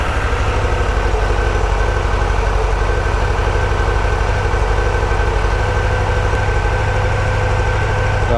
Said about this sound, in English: Bike on. I believe you have to start it.